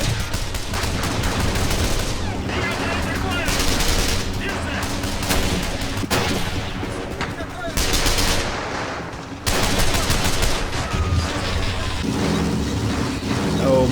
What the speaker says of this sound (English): Soviets are starting to pound me with MG fire now.